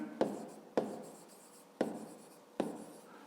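Pen writing an answer on paper during a fifth-grade maths exercise, four short scratchy bursts at a steady pace, close and quiet, with no talk.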